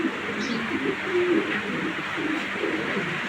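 White racer pigeon giving soft, low coos in short repeated phrases, near but fairly quiet over a steady background hiss.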